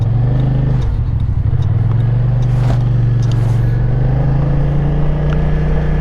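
A car goes by on a town road, a steady engine drone with a low rumble that shifts pitch as it passes, fairly close and loud throughout, no talk.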